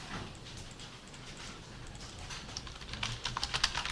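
Typing on a computer keyboard, a quiet stream of light, irregular key clicks close by, growing a little busier and sharper toward the end.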